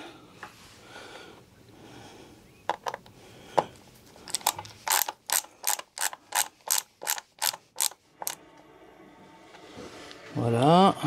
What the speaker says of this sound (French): comme c'est du plastique, on va pas trop visser fort.